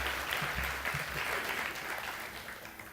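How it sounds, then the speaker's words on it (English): A church audience applauds its worship team, a dense steady patter of many hands clapping that fades slightly toward the end. "give them a round of applause."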